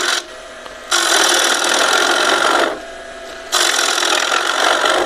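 A bowl gouge scrapes a spinning live edge oak bowl on a wood lathe, producing loud, close, rasping bursts in two long passes separated by a quieter whirring lull, with no talking.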